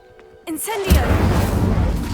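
A voice calls out the Incendio spell in a Harry Potter video game, then a loud fiery whoosh bursts in and roars on steadily to the end.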